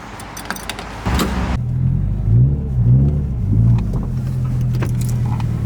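A Subaru STI sits at a snowy roadside. After a few light clicks, its engine starts up, idles with a low rumble and gives several rising and falling revs, loud and nearby.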